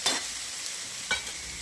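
Potatoes for poha sizzle in a pan, a steady frying hiss broken by two short scraping stirs, one at the start and one near the end, with no voices.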